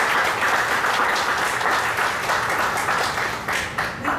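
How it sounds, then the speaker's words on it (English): Audience at a pharmacy awards ceremony applauding supporting contributors, a full, continuous roar of clapping from a large crowd, loud and sustained for the whole stretch. "Please give them a round of applause."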